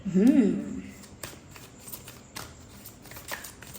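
Tarot cards shuffled by hand in a pick-a-card reading make soft, close, rapid riffling and sliding sounds, with a short burst of voice at the start.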